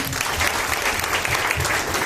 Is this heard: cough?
no